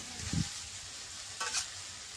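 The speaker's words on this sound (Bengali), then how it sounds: "দিয়ে খুব ভালোভাবে মশলার সাথে মাখিয়ে নেবে, নেড়ে নেবে, খুব ভালোভাবে নাড়বে" Fried potatoes and freshwater snails get stirred into sizzling masala in a village kitchen pan, two short scraping stirs over a steady frying hiss, close and moderately loud.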